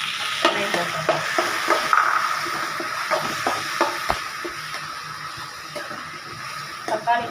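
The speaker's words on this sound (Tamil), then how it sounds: "தக்காளி போட்டு நல்லா வதங்கட்டும். தக்காளி இங்கே வதங்கிட்டு இருக்கு." Tomatoes sauté in a pan for a coconut milk chicken gravy, giving a steady sizzle broken by repeated scraping stirs of a spoon, moderately close, with a voice talking over parts of it.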